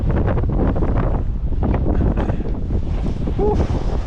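Wind gusting hard across an open hilltop on a climb, a steady loud rushing buffet on the microphone that swells and dips throughout.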